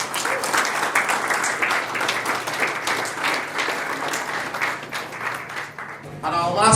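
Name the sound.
applause for award winner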